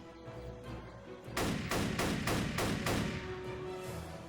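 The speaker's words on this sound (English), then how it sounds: "feel free to use as much ammo from your M1 Garand as necessary" M1 Garand rifle fire in the Xbox 360 World War II game Battle for the Pacific: five evenly spaced, loud, booming shots in quick succession, with no talk.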